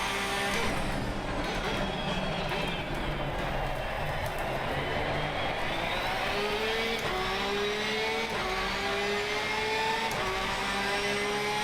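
A race car in Assetto Corsa Competizione drives a lap with a constant loud engine roar, climbing in pitch through repeated upshifts, alone without talk.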